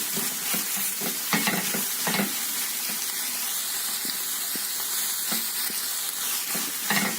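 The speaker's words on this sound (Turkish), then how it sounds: "Güzelce karıştırıyorum." Sliced green chili peppers sizzle steadily in a hot pan while a utensil stirs them, scraping and clacking in irregular strokes, while making a meat sauté.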